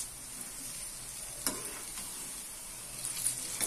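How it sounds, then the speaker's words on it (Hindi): Moong dal pakodi (crispy mangode) frying in hot oil on low heat, giving a steady soft sizzle with a few faint clicks and stirring taps, heard alone at low level. "धीमी आंच में पकाऊंगी क्योंकि अंदर तक बढ़िया से पक जाए और करारी करारी सी सिके"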